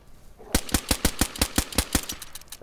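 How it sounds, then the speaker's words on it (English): Rapid automatic gunfire in the video game DayZ, about nine evenly spaced sharp shots fired in a quick burst, loud and close with no talk over it. "I'm shooting straight at him."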